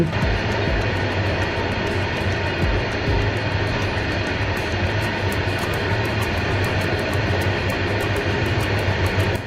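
A long train at the end point of its run near Araku rumbles steadily throughout, a loud continuous low drone with broadband noise and no pauses.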